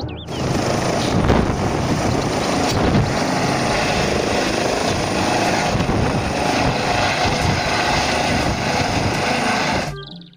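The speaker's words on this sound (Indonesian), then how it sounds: "Yang ini ada helikopter." A toy helicopter whirs with a steady, dense rotor drone that runs unbroken for about ten seconds, then cuts off.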